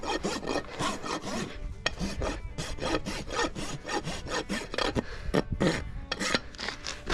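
A rasp smooths a horse's hoof during a trim, giving quick rhythmic rough scraping strokes, close and fairly loud, repeated steadily with no talking.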